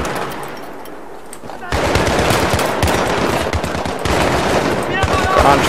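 Rapid automatic gunfire from a Battlefield 3 co-op mission, loud and close, with dense bursts of shots running almost continuously and a heavier stretch after the first couple of seconds; a voice speaks over part of it.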